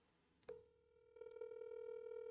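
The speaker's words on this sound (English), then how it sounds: "I want y'all to hear the ringtone" An outgoing call to a cell phone sounds: a click and then a steady, sustained ringback tone that swells slightly and holds, heard alone without voices.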